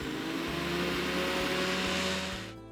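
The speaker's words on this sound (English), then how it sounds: "So before you start to juice, make sure the machine is on." An electric juicer runs at high speed on raw beetroot, a loud steady motor whine close by with a faint regular pulse, cutting off sharply at the end.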